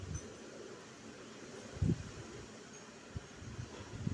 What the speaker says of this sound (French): Le vent qui se déchaîne comme ça.